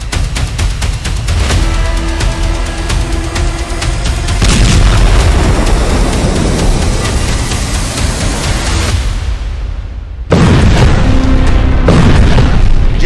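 Bomb explosions in war-hit Beirut, heard as a loud, continuous roaring rumble of blasts that swells and then surges again sharply near the end, with no voices.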